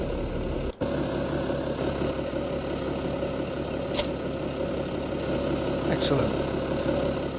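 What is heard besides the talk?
vehicle engine idling in neutral in a farming video game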